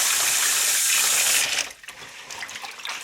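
Sushi rice being rinsed in water: a strong, steady gush of running water for about a second and a half, then stops, followed by quieter sloshing and splashing.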